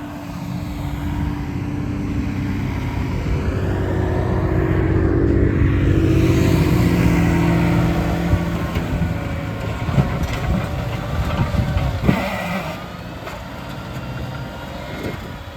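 A loud, continuous tractor engine drone rumbles throughout, rising slightly midway, with some rattling and clanking toward the end and no voices, during field levelling in a wheat field.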